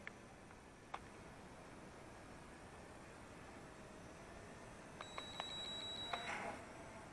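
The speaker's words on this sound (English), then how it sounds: "So you can hear that beeping tone that we get." Eachine E33W quadcopter drone emitting a faint electronic beeping tone, short steady high-pitched beeps near the end against a constant background hiss, with a few small clicks earlier.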